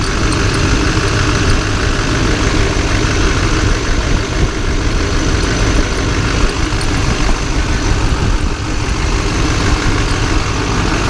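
A Duramax diesel pickup truck idles steadily and loudly up close, a continuous low rumble with no revving and no voices over it.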